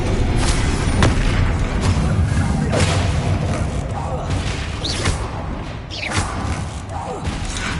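Spell explosions from Hogwarts Legacy on PS5: repeated booming blasts and thuds land every second or so over a dense rumbling game soundscape, with a voice talking throughout.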